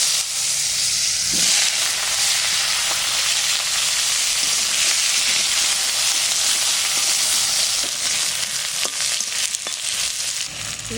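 Sliced potatoes frying in mustard oil, a loud steady sizzle and hiss with occasional stirring scrapes, no talking over it.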